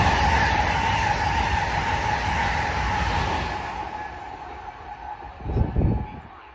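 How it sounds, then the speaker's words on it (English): A Northeast Corridor train rolls through a station at Guilford, Connecticut, a loud, broad rumble and rail screech that slowly fades, with a brief closer burst of clatter near the end. "Train approaching. Please remain behind yellow line."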